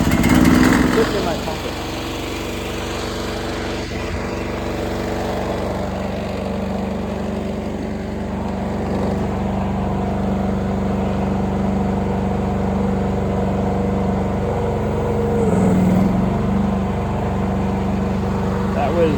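Engine of a tow-able hoist vehicle runs steadily throughout at a close, even idle with a low constant drone, while someone talks over it.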